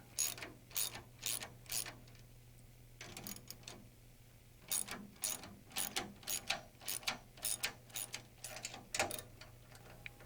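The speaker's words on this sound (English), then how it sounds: "Remove the lock nuts of the secondary's lower bearing flange." Ratchet wrench removing the lock nuts of the secondary's lower bearing flange on a Rotorway helicopter, quick bursts of rapid clicking with short pauses between strokes, close and clear, with no voices.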